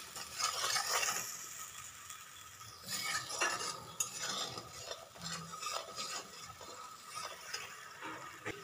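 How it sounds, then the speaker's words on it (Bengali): Spice paste (masala) for taro leaf curry with fish head being fried in a pan: a fairly quiet, soft sizzle under repeated spatula scrapes and stirring clatter, with no voices. "দিয়ে মশলাটাকে একবার ভালো করে কষিয়ে নেবেন, যতক্ষণ না মশলা থেকে কাঁচা গন্ধটা চলে যাচ্ছে"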